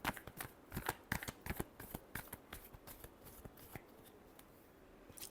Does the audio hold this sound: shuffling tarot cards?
yes